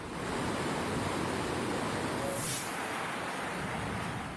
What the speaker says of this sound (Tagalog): May halong putik at troso ang rumaragasang tubig.